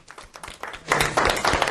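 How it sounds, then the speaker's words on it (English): Applause from an audience at a business coaching session, starting as scattered individual claps that build into fuller clapping from a small group by the end. "Give him a round of applause here."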